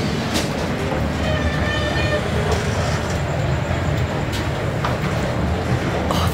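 A constant loud rumble and rattle of rolling stock fills a moving train carriage, with faint high squeals and clicks over the steady noise.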